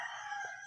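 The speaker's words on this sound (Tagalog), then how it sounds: "may mga manok." Chickens clucking and crowing in a rural village over a dense, steady high-pitched chorus, moderately loud and continuous with no talking.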